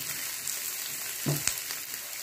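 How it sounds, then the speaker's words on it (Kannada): Cauliflower for restaurant-style gobi manchurian frying in a pan makes a constant bright hiss, with one short spatula stir and scrape midway, close and without speech. "1-2 ನಿಮಿಷ ಈ ಥರ ಫ್ರೈ"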